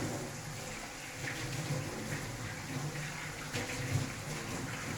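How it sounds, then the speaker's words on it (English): Hands are washed under running tap water in a home kitchen, a steady close rush and splash of water with slight surges, with no voices. "wash my hands"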